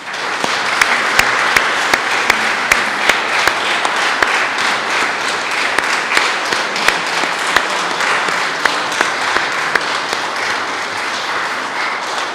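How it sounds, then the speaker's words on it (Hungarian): An audience at a charity concert in Hévízgyörk gives a women's choir a sustained round of applause: dense, even clapping close by, with a few sharper individual claps standing out. "befejezésül még egy nagy tapsot adhatunk nekik"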